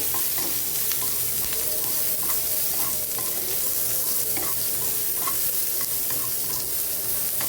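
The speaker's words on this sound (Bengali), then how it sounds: "কালিজিরা ফোড়ন দিয়ে সাথে একটু পেঁয়াজ দিয়ে নিলাম" Nigella seeds and onion sizzling in hot oil, a loud, dense, continuous frying hiss with occasional small pops and stirring taps, close up and without speech.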